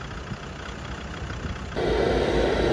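A tractor engine running during the recovery of another tractor buried deep in mud, a steady low rumble that suddenly grows louder and rougher partway through as the engine works harder.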